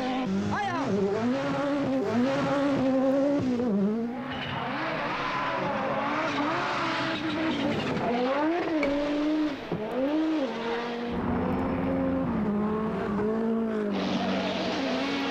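Group B rally cars racing on Finnish stages, engines revving hard and dropping through gear changes in repeated rising and falling whines, loud and close with tyre noise between bursts.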